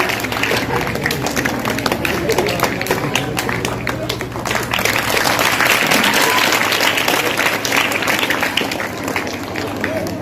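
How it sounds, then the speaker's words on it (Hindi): Dense, sustained applause from a school audience at a Teachers' Day event, a continuous wash of many hands clapping close by with voices over it. "इब्राहिम सर ताली पर मैं बुला दूँ."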